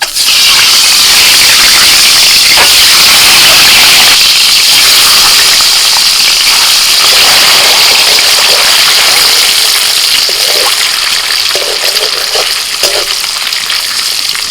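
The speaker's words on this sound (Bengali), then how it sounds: "তেল গরম হয়ে গেছে ডিম ছেড়ে দিচ্ছি" An egg fries in hot oil seasoned with a little salt and turmeric, giving a loud, steady, close sizzle with crackling spatter that carries on without a break and with no talk.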